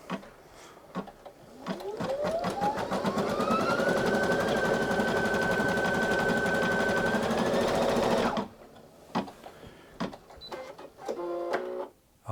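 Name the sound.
Brother Innov-is NQ3700D embroidery machine stitching salmon pink thread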